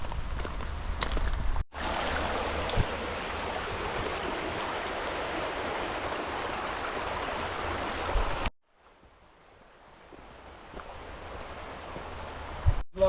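A river in the Scottish Highlands flows in a steady close rushing wash for about eight seconds, then cuts off abruptly to quiet and slowly returns as a fainter, more distant rush.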